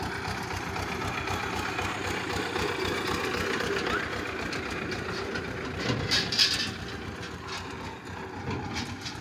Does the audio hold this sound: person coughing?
no